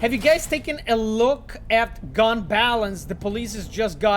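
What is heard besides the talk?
No distinct noise like a dog, phone or traffic.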